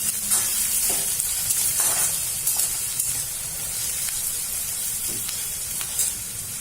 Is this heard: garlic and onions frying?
yes